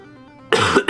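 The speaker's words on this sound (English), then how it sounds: "it's making me need to cough." A single short dry cough from an irritated throat, close and clear after a quiet moment, followed by a quick second cough.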